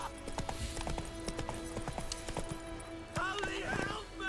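Hooves of Roach, the horse in the video game The Witcher 3; steady rhythmic clip-clop of hooves at a trot, fairly close, with a brief whinny-like sound and some voices near the end.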